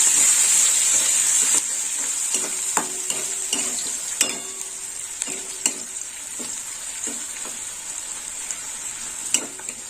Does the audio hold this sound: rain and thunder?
no